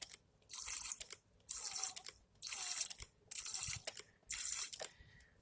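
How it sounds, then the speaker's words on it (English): Water squirted into a tarantula enclosure in five short bursts of hissing spray, each about half a second to a second long, separated by brief near-silent gaps, close and fairly quiet. "some water squirting gets her to come out"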